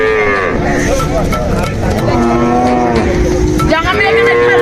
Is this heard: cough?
no